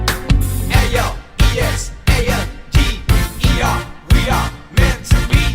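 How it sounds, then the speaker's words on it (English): Bright, brassy trumpet riffs from Broadway's Hamilton cut through dense, punchy backing music, with sung and rapped vocals running throughout in sharp, staccato bursts. "In Hamilton, the trumpet gives the music its bold, powerful energy."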